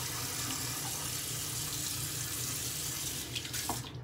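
Tap water running steadily into a sink to wet the face before a shave, a continuous close splash with a brief disturbance near the end.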